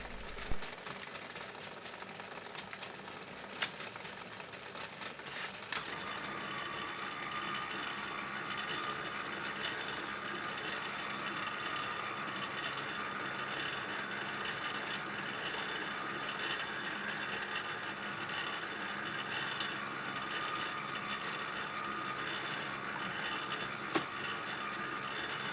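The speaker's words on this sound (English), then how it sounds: "This lathe is just brilliant for screw cutting. It has such a low back gear that you can do this sort of thing under power." An old Holbrook lathe, built in 1907 as a treadle machine and later converted to an electric motor, cuts a screw thread under power in low back gear, giving a steady close mechanical whir with ticking gear and ratchet noise and no talk.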